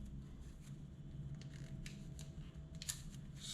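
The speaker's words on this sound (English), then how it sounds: "I'm gonna cut about this much off" Scissors or cutters snipping through an extension wire for a Jeep Renegade light, heard as quiet, faint clicks and cuts over low background hum, with a sharper snip near the end.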